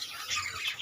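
Lovebirds and finches in an aviary, a steady chatter of high chirps and squawks, moderately close, with no talk.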